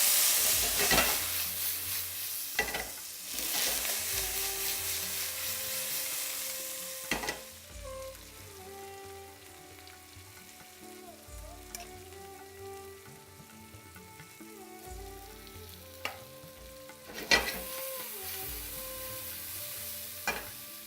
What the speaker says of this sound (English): Sprinkle of salt and just cook this, stir fry this for a few minutes.